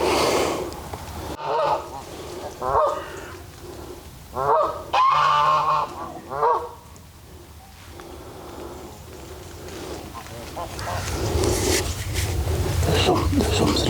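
A flock of more than 50 Canada geese wakes up at morning flight, honking repeatedly at mid distance. Some calls come as separate loud bursts, then blend into a busier, continuous wash of calls, with a voice talking at times.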